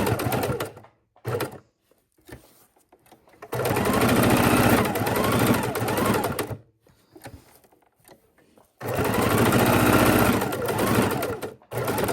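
A sewing machine stitches in the ditch around the center block of a quilted potholder, running in two long loud bursts with short starts and pauses between, up close with no talking.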